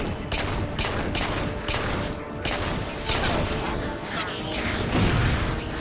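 Rapid pistol fire in the Halo 4 campaign mission Dawn, a dense stream of quick gunshots and mechanical clatter mixed with battle noise, steady and loud throughout.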